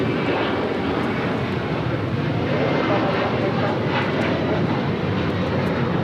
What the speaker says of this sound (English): This is Alaska Airlines 1418 taking off to Guadalajara on a 737-900ER.